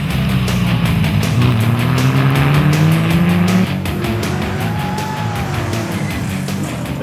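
Rally cars running flat out at the Targa Newfoundland road rally, a loud sustained engine roar with rising and falling pitch as the revs climb, close and continuous over the whole stretch.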